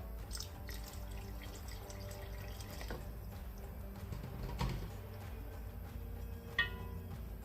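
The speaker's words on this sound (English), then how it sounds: "Okay, after 10 minutes, I'm going to add a touch of warm water." Warm water pours and trickles steadily into a lamb shank curry against a low background rumble, with small splashes and a brief clink near the end.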